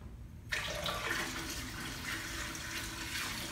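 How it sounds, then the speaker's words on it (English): Water suddenly starts pouring into an aquarium tank from a bucket, a steady splashing rush that continues unbroken at moderate volume. "putting water in this tank"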